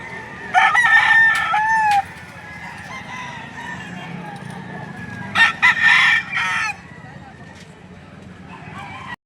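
Gilmore Hatch gamefowl rooster crowing twice, a clear crow near the start and another midway, set against a busy market backdrop with voices and clucking fowl around it.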